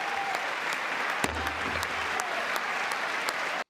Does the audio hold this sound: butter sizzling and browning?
no